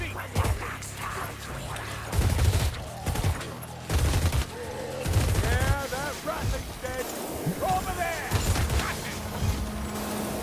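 Rapid rattling gunfire from a long-range weapon in the co-op video game Vermintide 2, bursts of shots cracking through a busy battle mix with voices talking over it.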